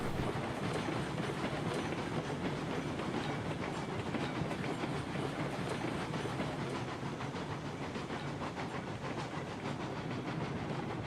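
A train rolls along the rails in the Railroads Online game with a steady rumbling clatter and hiss, close and continuous, no voices.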